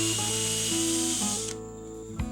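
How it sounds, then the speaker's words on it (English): A power drill runs with a 3/16 inch bit boring a hole through two stacked boards, giving a steady whirring buzz with shifting pitch that cuts off near the end, leaving a brief knock. "Using the 3/16 inch drill bit, drill a second hole through both boards."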